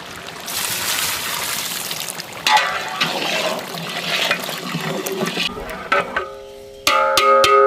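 Water gushes heavily into a large pot for mutton biryani, a loud rushing pour that surges and slackens over several seconds, then gives way to clattering and a sharp tonal ring at the end.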